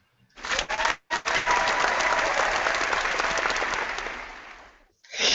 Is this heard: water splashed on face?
no